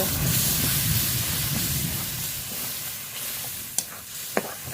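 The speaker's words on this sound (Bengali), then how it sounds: "এবার খুব ভালো করে কষিয়ে নেব।" Spice paste frying and being stirred in a pan for a country duck curry, a loud continuous sizzle with scraping stirs that eases off, ending with a couple of sharp utensil clinks.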